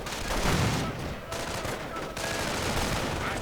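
Dense gunfire and explosions from a war strategy video game, with grenades and rifle fire in a continuous loud clatter of shots and blasts.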